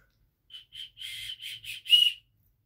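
An unboxed whistle is blown in a series of six short, shrill toots, the last one longest and loudest, close and alone.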